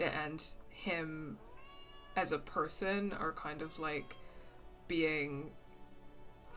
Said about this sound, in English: You can hear her meowing, maybe.